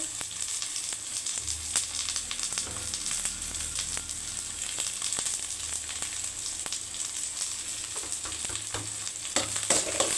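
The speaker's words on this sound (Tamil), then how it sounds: "நல்லா மிக்ஸ் பண்ணிடலாம். நல்லா வதக்கிட்டு" Onion and chillies sauté in a hot pan with a constant close sizzle, broken by sharp scraping clicks of a spatula stirring and tossing them; no voices.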